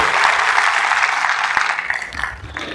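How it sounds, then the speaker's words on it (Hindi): A seminar audience bursts into loud, enthusiastic applause, a thick continuous roar of clapping with a few sharp knocks, easing slightly near the end. "सबके लिए एक बार जोरदार तालियां होनी चाहिए, जबरदस्त तालियां होनी चाहिए"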